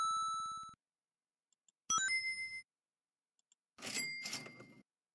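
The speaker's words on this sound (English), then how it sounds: "you can also use it to get an alarm sound every time you make a sale" A sale alarm from the Pretty Merch Chrome extension, a short electronic ring followed by two separate bursts of bright chiming tones, each clear and isolated with silence between them.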